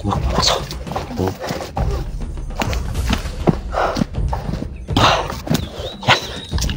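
A dog moves nearby outdoors, making irregular padding thumps and scuffling bursts close by, with a faint brief yelp-like note near the end.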